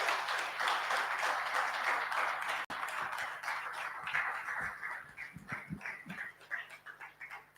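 Audience at a conference applauding the guest of honor, a foreign affairs minister, with dense steady clapping that thins into scattered claps toward the end, fairly distant and even.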